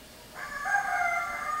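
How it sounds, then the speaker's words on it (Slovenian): Roosters crowing in Guatemala: one drawn-out cock-a-doodle-doo, fairly distant, rising over a quiet background. "Petelinčki so začeli kikirikati"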